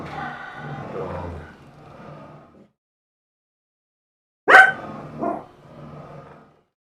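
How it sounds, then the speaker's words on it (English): A dog barks indoors at home: a short, loud bark sounds after a quiet gap, followed by a smaller yip and some muffled growly noise. Earlier, softer sounds come before the silence. "Mr. Dog says bark."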